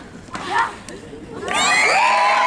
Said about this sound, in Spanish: Ese aplauso dedicado para todos